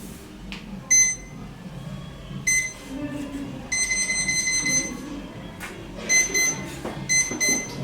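A timer alarm beeps in short, repeated bursts of high electronic tones during a Starbucks barista championship coffee tasting. It sounds close over a murmur of room noise and some voices.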